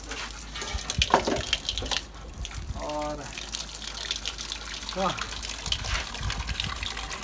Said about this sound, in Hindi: इसका पानी थोड़ा भर लेते हैं इधर